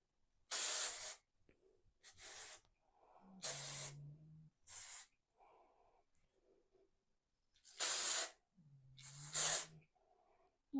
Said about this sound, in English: Let's add in a little bit of texture spray.